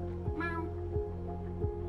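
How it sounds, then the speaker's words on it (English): A cat at Osaka Castle gives one clear, close meow over a steady low background hum. "We found Osaka Castle Cat."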